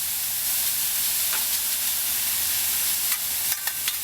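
Al pastor pork, spread flat, sizzling steadily on a hot grill, a continuous close hiss with a few sharper pops and crackles near the end.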